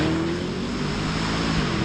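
A 2025 Aston Martin Vantage V8 accelerates hard with the wheels spinning, a loud, dense, continuous engine roar heard from inside the car.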